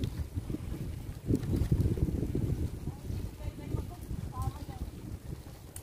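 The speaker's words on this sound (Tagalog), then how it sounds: "Sarap ng hangin." Wind buffets the microphone in low gusts while cycling toward Coney Island, Singapore, rising and falling unevenly, with faint chirps and background chatter at a distance.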